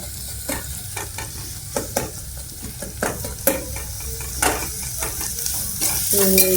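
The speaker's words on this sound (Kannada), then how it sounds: "ನೋಡಿ ಉಳ್ಳಾಗಡ್ಡೆ ಎಲ್ಲ ಚೆನ್ನಾಗಿ ಫ್ರೈ ಮಾಡ್ಕೋಬೇಕು" Chopped onions frying in a hot pan while being stirred for a dill-leaf palya, a steady sizzle broken by repeated scraping strokes of a spatula, close and continuous with no voices.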